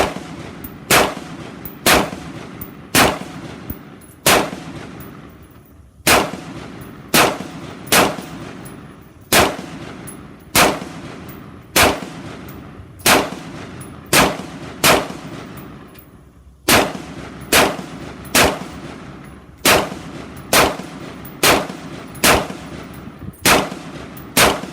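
A Caracal CAR814A2 rifle fires Black Hills 55 grain full metal jacket rounds at a shooting range: loud, sharp single shots at a steady, even pace, each with a ringing tail and no talking.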